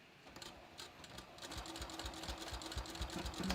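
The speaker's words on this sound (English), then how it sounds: "So I'm just gonna stitch so that I'm stitching sort of right down the middle of my serged edge" Close by, a sewing machine stitches down the middle of a serged bathrobe facing edge at about 2.5 stitch length, its needle pulsing quickly and evenly, growing slightly louder as it goes.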